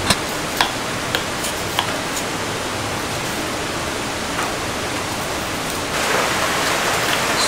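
Heavy rain pours steadily at a hammock campsite during a low-pressure storm, forming a dense even hiss with scattered sharp drips or ticks near the start and a louder surge toward the end, with no voices.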